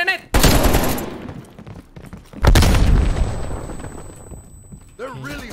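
Call of Duty: Black Ops Cold War combat: loud bursts of gunfire and a heavy grenade blast, separated by quieter gaps, with a player voice briefly heard near the end.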